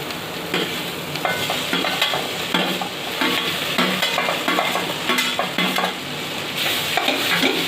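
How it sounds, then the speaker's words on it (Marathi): Okra stirred and frying in a hot pan after turmeric is added, a steady close sizzle with repeated scraping strokes of a utensil against the pan, continuous and fairly loud with no talking. "आता याच्यामध्ये आपण भेंडी घालणार आहोत"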